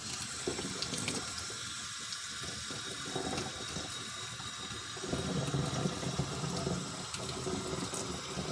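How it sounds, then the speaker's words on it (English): Hot water runs steadily from a tap into a sink while being used to soften a vinyl doll head, a continuous close splashing stream with a slight shift in tone partway through. "Warm the water up again, let it run, get it as hot as possible."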